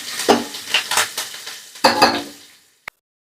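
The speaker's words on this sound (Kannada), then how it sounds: "ಇಷ್ಟು ಒಗ್ಗರಣೆ ಪದಾರ್ಥನ ಸೇರಿಸ್ಕೊಂಡು ಎಳೆ ಕವನಲ್ಲಿ ಒಂದು ಅರ್ಧ ನಿಮಿಷ ಫ್ರೈ ಮಾಡ್ಕೊಳ್ಳೋಣ" Tempering spices, with curry leaves and asafoetida among them, sizzle and crackle in hot oil in a pan for banana stem palya. Several loud bursts of spluttering are heard close up, fading out toward the end with a final sharp tap.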